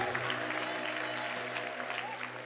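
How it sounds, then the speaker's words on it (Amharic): A church congregation claps steadily together, a dense, even wash of applause with a faint sustained musical tone underneath. "አጨብጭቡና ቁጭ በሉ።"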